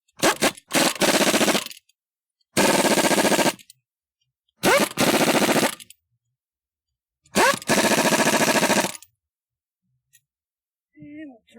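An impact wrench with a 90 foot-pound torque stick tightens a wheel on a 2009 Ford Focus during a front brake job, firing four loud, close rattling bursts separated by silence.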